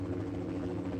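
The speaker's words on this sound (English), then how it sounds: "A faint whirring sound in the distance." A helicopter in the Montana wilderness, a steady low droning whir of rotor and engine held at an even, moderate level for about a second, with no voices.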